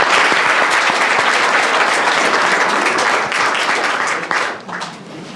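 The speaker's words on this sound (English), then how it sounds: "round of applause, obviously. Round of applause." A crowd at a school board meeting applauds steadily with loud, dense clapping that thins and fades near the end.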